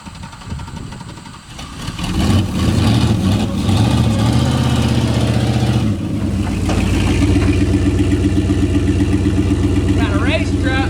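Race truck with an LS swap settling into a loud, steady idle after starting, its deep lumpy rumble holding close and constant for most of the stretch, with a voice briefly heard over it.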